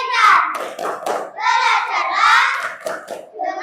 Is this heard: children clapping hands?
yes